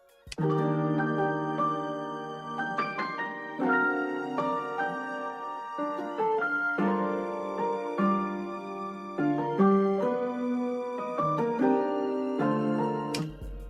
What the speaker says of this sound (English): The next sound I've added is this string from Balkan Ethnic Orchestra from Contact